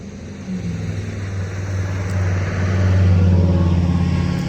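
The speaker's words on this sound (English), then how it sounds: "loud truck" A loud truck rolls past on a road by land lined with trees, its deep engine rumble steady and building louder toward the end, heard alone with no talk.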